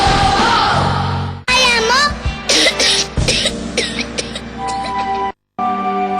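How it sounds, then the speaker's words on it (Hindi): Several sharp, harsh coughs burst out in quick succession, close by, mixed with brief voices and a short silence near the end. "अरे खांसी बुखार फिर से?"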